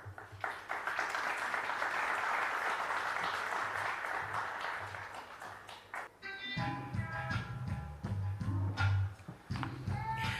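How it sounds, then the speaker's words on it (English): Conference audience at the Jamaica Diaspora Conference launch applauds the Minister, a broad sustained wash of clapping for about six seconds before it thins into scattered claps and murmuring crowd noise. "a round of applause as we say thank you to the Minister for his welcome message"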